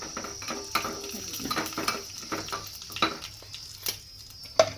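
Almonds and cashews sizzle softly in ghee, with a light steady crackle broken by scattered clinks and scrapes of a small spoon stirring in a pan, close up with no voices.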